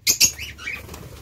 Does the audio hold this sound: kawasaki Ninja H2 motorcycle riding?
no